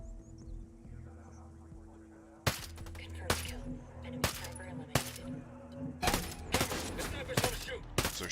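Gunfire in the tactical shooter Ghost Recon Breakpoint, several sharp, loud shots and short bursts starting after a quiet ambient stretch, then quickening toward the end over game background sound.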